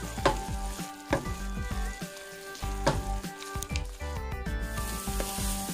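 Coconut and pineapple sweet being stirred steadily in a pan over low flame, with a continuous close sizzle and repeated scraping strokes of the spoon in an even rhythm, no voices.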